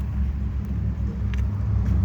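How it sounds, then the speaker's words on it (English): A truck with a flat tire passes during a beater car challenge, heard as a steady low road rumble that fills the whole short stretch without a break. "I could hear that truck before I saw it."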